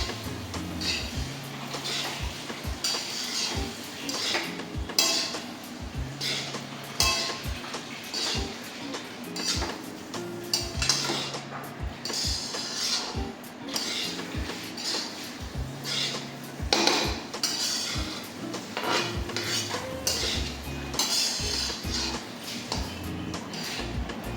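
Egg fried rice stirred with biryani masala in a pan, a busy stream of scraping and clinking from spatula on metal with steady sizzling underneath, close and continuous for over twenty seconds.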